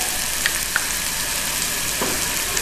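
Garlic and ginger sautéing in a hot pan, a steady bright sizzle and crackle throughout with a few faint pops, close and alone with no talk.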